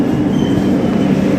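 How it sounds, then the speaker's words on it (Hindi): A Vande Bharat train pulls into a station platform, its steady heavy rolling rumble and wheel noise loud and close throughout with no voices. "फाइनली अब हमारी ट्रेन आ गई है।"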